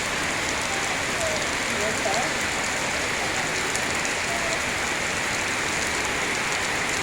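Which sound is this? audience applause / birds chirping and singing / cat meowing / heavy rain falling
heavy rain falling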